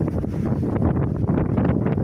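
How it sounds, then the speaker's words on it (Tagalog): Strong wind on a hilltop overlooking the Chocolate Hills buffets the microphone in a steady, loud, low rumble that fills the whole stretch without letting up. "Lakas ng hangin."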